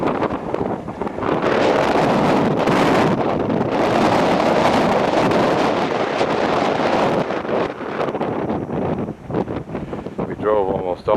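Strong wind buffets the microphone at Point Baird, a coastal campsite on the south coast of Australia near the Nullarbor, as a loud, steady roar that eases slightly toward the end, with a voice speaking under it.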